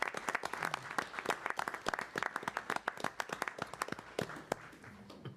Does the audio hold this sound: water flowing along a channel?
no